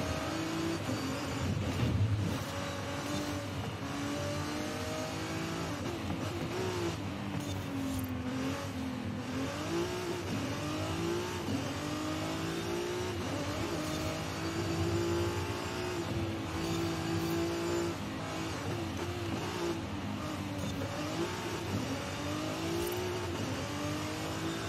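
A 2014 Ferrari California T in a racing video game, its engine revving and accelerating continuously with rising and falling pitch through gear changes, loud and steady throughout.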